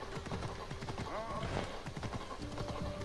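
Horse hooves clip-clop steadily at a trotting pace while riding through ancient Greece in the video game Assassin's Creed Odyssey, close and rhythmic, with some soft background sound.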